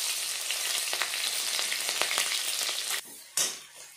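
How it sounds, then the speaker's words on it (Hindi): Chopped onion fries in a pan with garlic and chillies, a steady loud sizzle with scattered stirring scrapes that cuts off abruptly near the end before a brief resurgence. "अब मेरी प्याज भून जाए थोड़ी"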